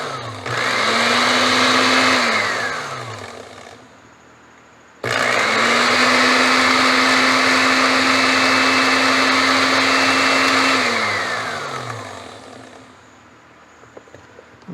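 A blender with a newly replaced blade rotor clutch runs loudly in two bursts: a roaring whir of about four seconds, then a brief pause, then a longer run of about six seconds that winds down and trails off.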